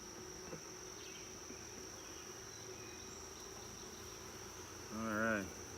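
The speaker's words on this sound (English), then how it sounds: "That's a lot of bees." Bees at an open hive with brood, honey and pollen drone faintly and steadily in a quiet outdoor setting, with a thin high insect whine throughout and a brief louder buzzing swell near the end.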